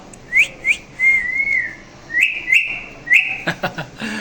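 A pet hill myna whistles a string of sharp, rising notes, several short chirpy phrases and a longer held tone, close and loud, ending in a quick burst of clicks and chirps.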